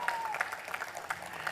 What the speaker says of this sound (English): give a very loud round of applause to Vicky and the CMPL team